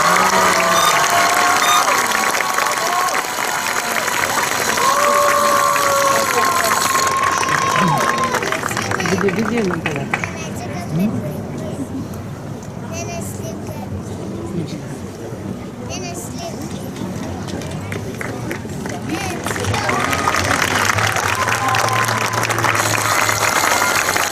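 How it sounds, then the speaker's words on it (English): An audience at a middle school promotion ceremony applauds an award recipient. Dense, loud clapping and crowd noise continue for the whole stretch, dipping slightly in the middle before swelling again. "Help me give a round of applause for the second Service Above Self Award recipient, Tyler Acosta."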